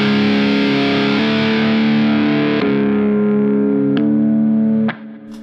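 Distorted electric guitar chord rings out loud and sustained while a Digitech Drop pitch-shifting pedal is engaged partway through, with sharp switching clicks and the chord cutting off near the end; no talking.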